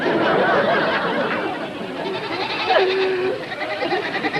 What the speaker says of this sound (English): McGee, get those goats out of here